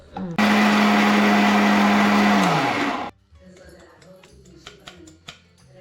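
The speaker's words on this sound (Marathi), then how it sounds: "शेंगदाणे भाजून घेतलेत आणि आता मिक्सरमध्ये बारीक करायचे" A mixer grinder whirs loudly at high speed for a few seconds grinding roasted peanuts, then winds down and stops, followed by light clinking and handling sounds.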